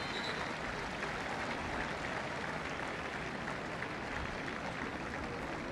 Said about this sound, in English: for a nice round of applause